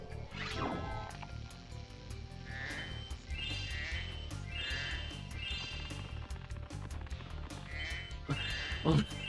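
Repeated sheep bleats sound at a steady pace over a busy soundscape from the video game Spyro 2: Ripto's Rage, with thumps and chimes, fairly faint overall.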